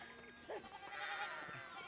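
A sheep bleats briefly in the video game Pentiment, a short wavering cry mixed with other game sounds while people talk over it.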